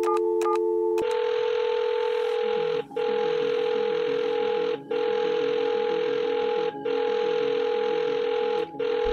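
A telephone rings repeatedly in the Rust survival video game during a call, with a steady tone pattern broken by short regular gaps, loud and alone with no talk.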